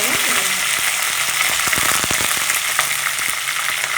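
Cinnamon, cardamom and curry leaves frying in hot oil, a loud, dense, crackling sizzle close up with sharp pops, continuous throughout with no talk.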